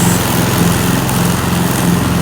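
A small tractor engine runs steadily outdoors at a chateau under renovation, a loud continuous buzzing drone like a lawn mower, close and unbroken with no talk.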